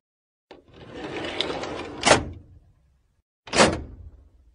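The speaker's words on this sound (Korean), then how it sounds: "꺼낸 서랍을 닫는 소리입니다" A pulled-out drawer is pushed shut: a soft sliding rustle builds and ends in a sharp wooden thunk, then after a short silence a second, similar quick slide-and-knock closes it again.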